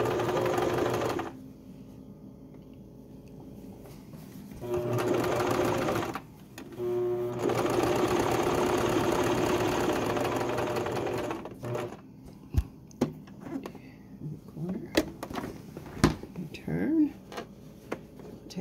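A sewing machine stitches a baby quilt in several runs of steady, close mechanical whirring, separated by pauses and followed by scattered clicks and handling sounds.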